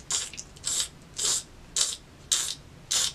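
Slide sandals peeling off the soles of bare feet while walking, six sharp sticky squelching bursts in a steady stepping rhythm, close up, with no talking.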